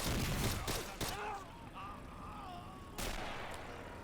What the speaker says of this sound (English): Oh no, that grenade! They didn't see it.